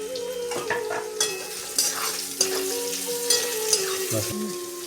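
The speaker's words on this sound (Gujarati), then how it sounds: "ડુંગળીનો કલર સોનેરી થાય ત્યાં સુધી શેકાવા દઈશું।" Chopped onion fries with ginger garlic paste for egg bhurji gravy. A continuous close sizzle carries regular stirring scrapes and faint utensil knocks, with a low tonal hum underneath.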